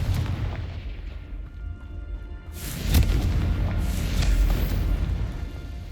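A Confringo blasting spell explodes in Hogwarts Legacy, a deep rumbling boom that swells with a sharp burst near the middle and rolls on as a low, loud blast.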